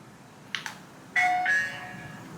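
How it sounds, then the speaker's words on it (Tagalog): Two soft clicks, then an intercom doorbell chimes clearly in a quiet room, its electronic tones ringing out and fading. "Pag may nag-press nitong doorbell."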